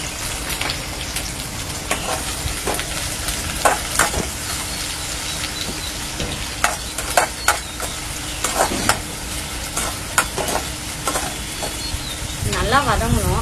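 Two large onions sauté in a pan for a chicken curry, a loud continuous sizzle broken by frequent sharp spatula scrapes and taps against the pan, close up.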